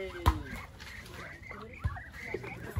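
Excited quacking and honking calls from ducks nearby, several short bursts overlapping in a noisy farmyard, with a few sharp knocks.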